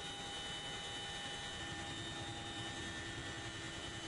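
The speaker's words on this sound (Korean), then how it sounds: "시끄러운 엔진음이 600m 상공에 머물자" Steady, droning aircraft engine noise at 600 m altitude during a military airborne drop, a continuous low roar with faint tonal whine, unbroken and fairly distant.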